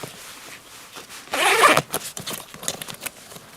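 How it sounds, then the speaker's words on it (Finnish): Long side zipper on a Savotta Jääkäri backpack pulled open in one steady, close rasping run, followed by a few lighter rustles and handling clicks. "Ja tässä näkee tämän repun sivuosan pitkän vetoketjun."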